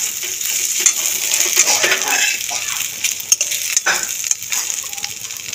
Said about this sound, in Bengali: এই তেলে জলেই মাছটা ভাজা হয়ে যাবে